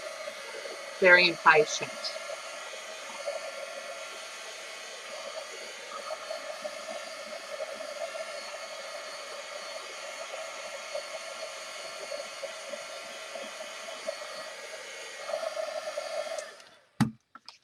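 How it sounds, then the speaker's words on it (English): A heat gun blows hot air over a paper art journal page in a steady, even whoosh that runs for about fifteen seconds and cuts off near the end, with a brief spoken remark at the start. "I'm going to put the heat gun on it"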